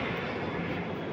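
A loud, steady jet roar of a Lion Air airliner engine taking off from SMB II airport, constant and close, with no break over the short stretch.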